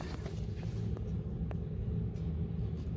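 A Ford Transit EcoBoost engine runs at idle with a broken exhaust manifold stud, giving a loud, steady low rumble with faint, irregular ticking puffs from the leak, recorded close up.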